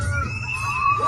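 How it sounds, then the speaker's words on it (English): An audience in the stands screams as a bull charges toward them: a loud, dense mass of shrill crowd shrieks and yells, sustained and close. "the camera is dropped as the audience starts screaming"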